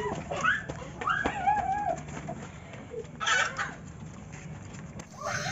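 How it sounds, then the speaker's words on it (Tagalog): Chickens cluck and squawk up close while being stuffed into bags, with irregular bursts of calls over steady outdoor background noise. "habang tayo naglalagay ng manok sa ating mga bag"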